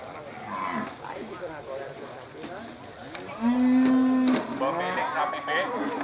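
A cow moos once in a long, steady, loud low call during an Eid al-Adha livestock gathering, with people talking before and after and crowd noise throughout.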